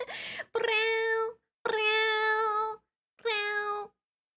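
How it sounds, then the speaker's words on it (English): A cat gives three drawn-out meows close up, each about a second long with short pauses between, preceded by a brief noisy burst. "I love it when cats make that noise."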